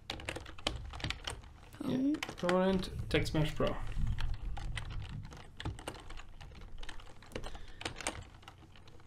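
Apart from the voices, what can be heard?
typing code on a computer keyboard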